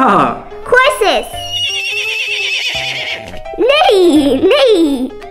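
Loud horse whinnies, two shrill neighs with a pause of bright chimes and clip-clop between, close and clear, with a voice mixed in.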